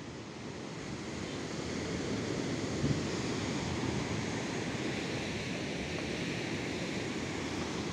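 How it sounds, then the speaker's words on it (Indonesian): Strong surf at Ngobaran beach in Gunung Kidul, Yogyakarta, roars as a continuous broadband wash of breaking waves, steady and fairly far, with wind noise on the microphone. "Untuk ombaknya deras ya."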